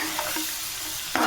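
A spoon stirs fish curry with cumin powder in a pan, a soft sizzling frying hiss throughout with a brief louder scrape near the end.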